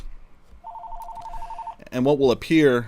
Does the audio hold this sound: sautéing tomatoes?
no